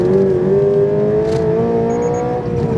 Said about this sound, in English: this one has an unspeakably loud exhaust on it